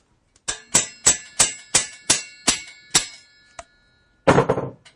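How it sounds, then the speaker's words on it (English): Hammer tapping a bicycle bottom bracket spindle into place: about eight sharp metallic clangs in a steady, slightly slowing rhythm, then a softer tap and a final heavier strike, close and clear. "I take a little tap with a hammer to get the spindle all the way in"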